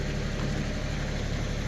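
A tractor engine runs steadily and loudly at close range, a constant low rumble with mechanical vibration and no speech.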